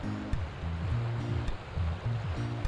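Steady rushing water from the Tigum River in Maasin, Iloilo fills the clip, a continuous broadband wash, with a faint low hum of voices or tones drifting underneath.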